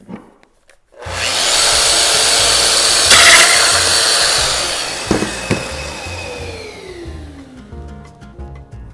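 A domino joiner power tool, used to open a beer, whirs up to speed with a loud steady high-pitched whine and grinding, then spins down with a falling pitch, followed by a few small clicks and clatters.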